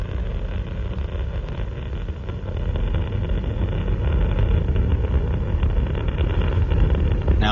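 Space Shuttle Columbia's three main engines thunder during the STS-94 launch in a dense, unbroken roar that builds slightly louder over time, with no voices.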